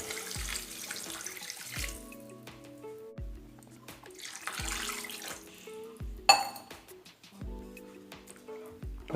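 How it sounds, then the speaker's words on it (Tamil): Water runs from a tap and splashes into a pan of vada curry with Kashmiri chilli powder in a few separate pours, with soft clinks of cookware between them, fairly quiet. "தேவையான அளவு தண்ணி ஊற்றிக்கலாம்"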